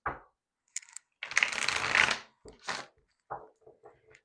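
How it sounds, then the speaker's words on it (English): Tarot cards being shuffled in several short bursts, with one longer riffle in the middle, close and fairly quiet, with no talking. "One more good shuffle."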